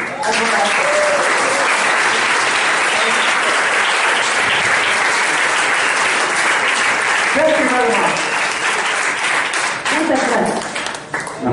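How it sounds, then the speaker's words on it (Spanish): A crowd at a worship class in Santa Cruz, Bolivia claps loudly and steadily, dense applause close to the microphone with some voices and cheers mixed in throughout. "Bueno, dale un aplauso al Señor."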